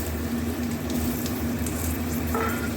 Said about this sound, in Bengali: আলুগুলো ভাজবো।